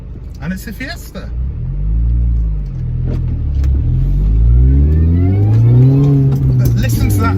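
A 2000s R53 Mini Cooper S on a wet road, its supercharged engine climbing in pitch through rising revs with a steady rumble, up close and loud, with someone talking over it.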